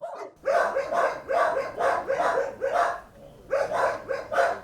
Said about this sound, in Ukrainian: Чекають і троє цуценят, і ще сім десятків різноманітних собак.